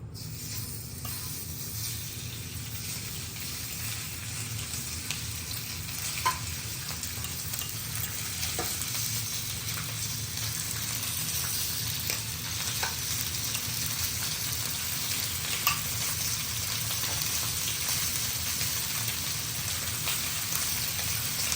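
Beef fries in a generous swirl of peanut oil in a hot pan, giving an even, dense sizzle that holds steady throughout. A few faint pops and crackles rise out of it, and no one speaks.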